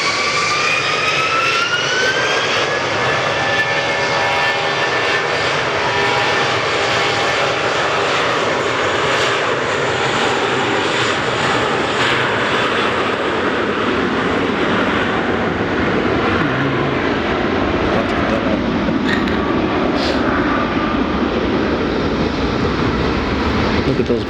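A JetBlue jet airliner's engines roaring at Fort Lauderdale International Airport, a loud continuous rumbling whine with a rising tonal whistle, sustained throughout with some speech mixed in.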